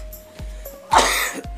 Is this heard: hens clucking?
no